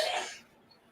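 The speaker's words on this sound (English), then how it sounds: "Did you hear that sneeze?" A single short, breathy sneeze bursts out at the start, then quickly fades into near silence.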